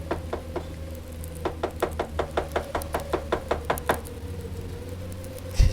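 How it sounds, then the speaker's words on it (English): Knuckles rap on a wooden chamber door: two taps, a pause, then a steady run of about a dozen evenly spaced knocks, close and clear in a quiet room. "suddenly there came a tapping, as of someone gently rapping at my chamber door"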